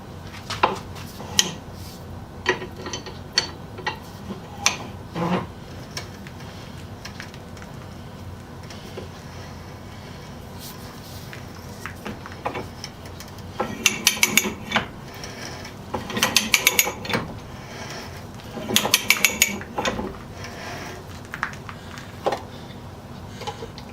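An old pipe threading tool is worked by cranking its handle, producing ratcheting metal clicks and clanks in irregular bursts, with denser clusters of rapid clicking midway.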